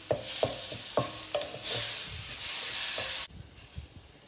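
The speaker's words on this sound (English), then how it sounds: "Just stir it until the raw taste. Now I am adding the tomato." Tomato goes into a hot pan with ginger garlic paste for a jackfruit biryani. Spoon scrapes and taps against the pan give way to loud, sustained sizzling and hissing, which cut off abruptly and leave a few soft stirring knocks.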